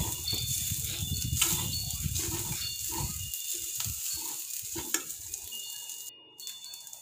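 Yang Chow fried rice is stir-fried in a pan over low heat, with a brisk sizzle and scraping of the spatula for a few seconds before the sound thins out into quieter clatter and background hiss.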